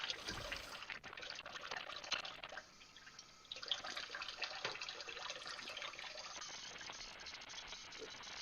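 Tap water running into a pan, a continuous soft gushing and trickling with a brief dip partway through, fairly faint and with no voices.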